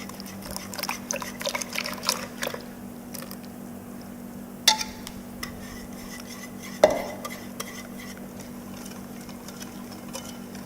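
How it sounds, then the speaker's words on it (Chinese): Mango crepe batter being stirred gently in a bowl while more ingredients are poured in, giving soft, faint scraping and clinking strokes with a couple of sharper utensil taps against the bowl. "加入之后轻盈的搅拌，一面倒一面搅"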